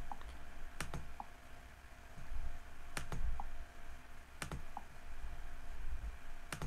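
Sharp mouse clicks on a computer while navigating an Android development app, three paired clicks spaced a couple of seconds apart, close and clear over a low steady room hum with no talking.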